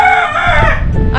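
A rooster crows loud and close in a brief, raspy call on a rooftop poultry setup.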